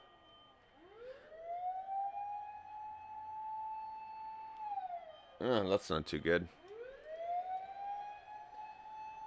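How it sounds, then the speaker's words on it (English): A Japanese fire truck siren wails in long rising and falling sweeps, fairly loud and steady from nearby, with a brief spoken remark cutting in partway through. "Sound of a fire truck in Japan."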